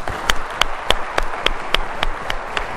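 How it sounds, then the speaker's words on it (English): Mourners at a eulogy give a round of applause and a standing ovation. The claps are sparse and evenly spaced, a small group clapping in a slow, steady rhythm over faint background noise. "let's have a round of applause and a standing ovation for Edward Joseph Ziener"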